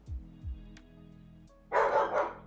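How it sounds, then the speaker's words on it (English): Dogs kept in kennels next to each other bark: a couple of low, muffled woofs at first, then a loud, harsh burst of angry barking near the end. "they're in kennels, so don't worry if you hear angry barking"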